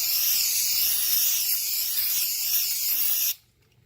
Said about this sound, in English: So what I got here is just some brake cleaner. Just want to spray it and wipe it down.